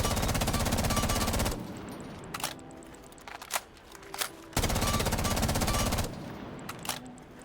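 An F2 assault rifle fires on full auto in Rainbow Six Siege: two long, loud, continuous bursts of rapid gunfire separated by a stretch of scattered single shots and faint clicks, with no talking.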